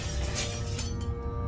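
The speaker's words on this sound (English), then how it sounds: "When I heard the unmistakable sound of glass shattering," A sharp burst of glass shattering, loud and close, with bright crashing fragments dying away over about a second.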